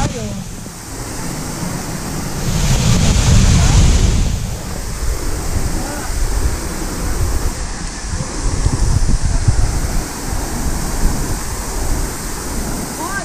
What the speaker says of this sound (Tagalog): Ito yung unang falls.